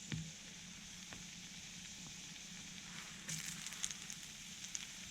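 Thick pieces of chicken of the woods fungus fry in fat in a pan, giving a steady close sizzle with faint crackles and a short burst of louder spitting toward the end.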